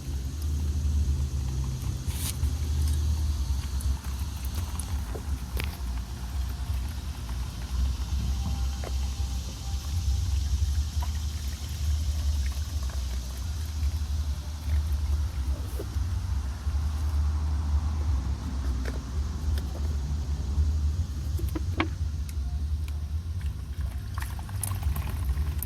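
Vinegar-water flush being poured through a funnel into a motorcycle radiator during a coolant change, a steady liquid pour and gurgle over a continuous low rumble that lasts throughout, with no talk.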